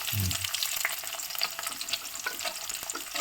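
Garlic cloves and onions frying in a pan, a continuous bright sizzle with crackles and a few stirring scrapes, close and steady throughout.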